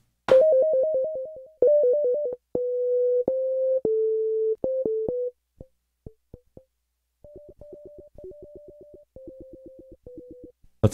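Clean synthesized beeping tones from an SFXR-style sound effects generator in Reaktor 5 play in short, stepped patterns: quick pulsed notes, held tones, and rapid staccato blips at varying pitches, with silent gaps.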